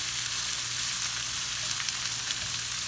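Onions sauteing in a frying pan give a steady, close sizzle and crackle that holds evenly throughout with no talking.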